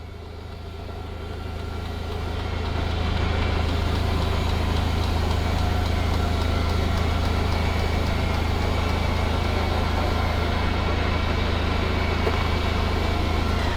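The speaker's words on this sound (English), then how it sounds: "hit the slide button, and we'll retract the slide back in" A 2021 Tiffin Wayfarer 25 TW Class C motorhome's engine and generator run as its slide-out retracts, a loud steady low drone that swells over the first few seconds and then holds constant, with no talk.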